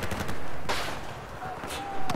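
Gunfire crackles in the video game Battlefield 4 during a mixed-mode Rush battle, with sharp bursts and rattling volleys over a dense, noisy backdrop of battlefield sound.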